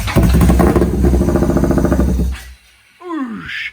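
A Harley-Davidson Street 750 race-spec build runs loud and close, its engine revving hard with a rumbling, clattery note before cutting out to near silence, then a brief rising rev as it catches again.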